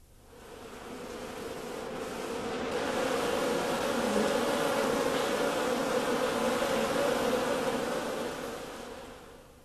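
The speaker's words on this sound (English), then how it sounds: "The honeybee Apis mellifera is collecting nectar on the flowers of the mustard plant." Honeybee (Apis mellifera) buzzing close up while collecting nectar on mustard flowers, a steady droning hum that swells slightly and then fades, with no voices.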